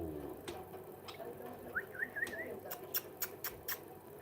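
A pet bird gives a short, faint whistled trill of chirps indoors, with scattered light clicks and ticks around it over a low background murmur.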